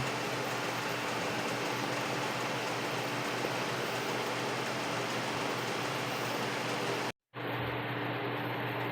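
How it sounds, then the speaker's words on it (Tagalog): A pot of chayote and ground pork boils with a constant, even hiss that cuts out for a moment near the end. "Ayan, kumukulo na."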